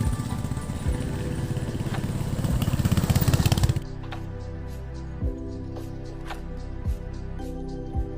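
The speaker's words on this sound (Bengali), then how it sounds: "এই যে দেখতে পাচ্ছেন রাইডার্সরা বাইক নিয়ে আসছে।" Motorcycles ridden by a group of riders on a hill trail between Lava and Kolakham, engines droning loudly and close for about four seconds before fading to a softer, distant hum with occasional knocks.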